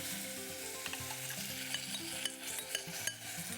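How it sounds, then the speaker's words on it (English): Sauce added to sautéing daikon radish in a pot, giving a steady sizzle and frying hiss with stirring scrapes, close and continuous for a few seconds, no talk. "The whole idea of sauteing this Daikon radish is to get the sweet flavor out of it"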